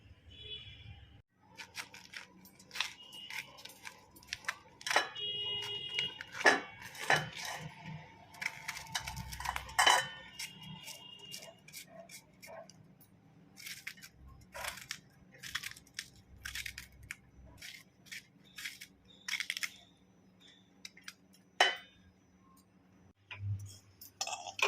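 A knife chops banana flower into small pieces on a board, producing a steady series of sharp, crisp cutting clicks with short pauses, close and fairly quiet, with no talking.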